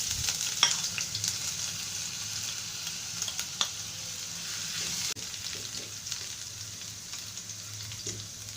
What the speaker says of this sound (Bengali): সামান্য তেল দিয়ে দিচ্ছি আদা কুচি, রসুন কুচি